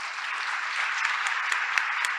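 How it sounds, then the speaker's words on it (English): Audience at a school board meeting applauding a high school student orchestra, steady dense clapping throughout with a few louder claps standing out, no talking over it. "Let's give a hand to the students."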